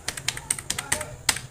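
Fingers tapping out a mobile number on a computer keyboard, a quick irregular run of crisp, close key clicks, some louder than others, with no talk over them.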